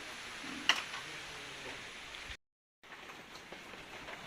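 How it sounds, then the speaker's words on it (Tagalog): Rain returning outdoors at a copra work site, a faint steady patter with scattered light ticks, broken by a short cut to silence midway. "ulan na ulit"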